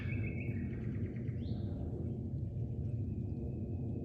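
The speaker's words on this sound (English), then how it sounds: "only the birds singing in the middle of the night." Faint bird chirps and whistled calls over a steady low rumble of night ambience, a few brief notes scattered across the stretch.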